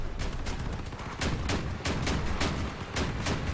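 Rapid bursts of weapon gunfire from Crossout vehicle combat, with vehicle-mounted guns firing in repeated volleys, steady and loud, with a brief pause midway and no talk over it.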